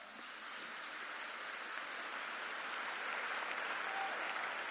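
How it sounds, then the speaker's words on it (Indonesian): An audience of Islamic boarding school students at a Ramadan political gathering applauds steadily, a dense, even wash of many hands heard from a distance that holds at a constant level. "Ini tepuk tangan untuk kita semua."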